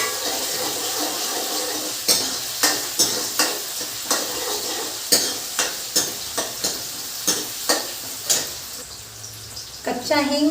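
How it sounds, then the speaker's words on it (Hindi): Tadka tempering for besan cooks in a pan with a steady sizzle, while a spoon repeatedly stirs and scrapes in regular strokes. Water runs briefly near the end, with faint background noise throughout. "बढ़िया तड़का लगाएंगे।"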